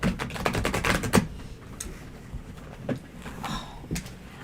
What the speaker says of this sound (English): I'm not shuffling well at all.